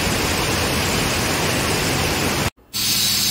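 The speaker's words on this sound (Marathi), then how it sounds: "तर या ठिकाणी आपल्याला हे वॉटरफॉलचं पाणी दिसतंय, वाळाचं पाणी दिसतंय" Waterfall stream flowing at Dhutpapeshwar temple near Rajapur, a dense, steady rush of falling water filling the whole clip, broken only by a brief silent gap near the end.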